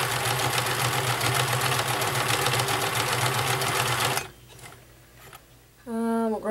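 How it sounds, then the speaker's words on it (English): A vintage Nelco convertible free-arm sewing machine runs a stretch stitch, its needle chattering in a fast, steady rhythm for about four seconds before stopping, followed by quieter handling noises and a brief tonal whine at the end. "See the fabric working up and back as it does the stretch stitch."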